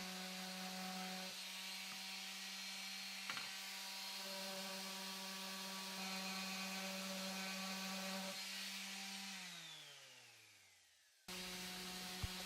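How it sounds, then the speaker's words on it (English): A power sander works the over-painted straight edge of a wooden piece, a steady droning whine running close and loud before winding down, then starting up again at the end. "if you have a straight edge and you've over painted, it's really easy just to sand it down to get a nice crisp line"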